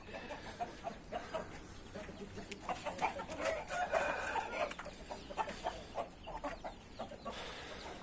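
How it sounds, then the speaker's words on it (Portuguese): Indian game rooster and hens on a hot day, clucking and crowing fairly close by in an irregular stream of calls over steady outdoor background noise. "E aquele outro pintinho lá não é do Coloral."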